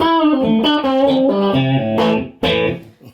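Electric guitar played through a Dumble Overdrive Special amp with reverb off: a short melodic phrase of clear, slightly driven notes and a couple of sharper picked accents, dry and close.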